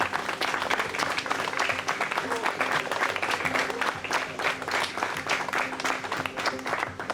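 A crowd at a street fishing contest in Nantes applauds the volunteers with sustained, dense clapping that stays steady and fairly loud throughout.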